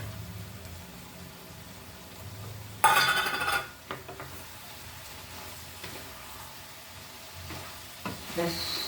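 Cornflour slurry is poured into a pan of broccoli sabji, giving a sudden loud burst of sizzling followed by fainter frying and occasional spoon scrapes as it is stirred.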